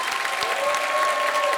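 An audience claps in continuous, moderately loud applause at a stage show, a thick even patter with no talk over it.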